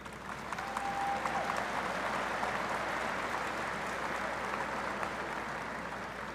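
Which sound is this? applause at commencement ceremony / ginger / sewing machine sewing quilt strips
applause at commencement ceremony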